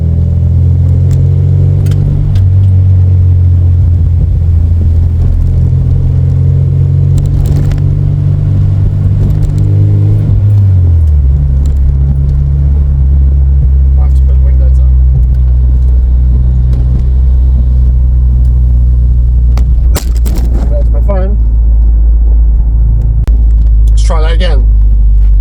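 A Toyota MR2 Mk3 Roadster with a cat-back exhaust rumbles steadily, then its exhaust note drops and deepens as it pulls away and accelerates, loud and close throughout.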